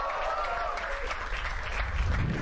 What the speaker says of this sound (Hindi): एक बार तालियां फॉर बादशाह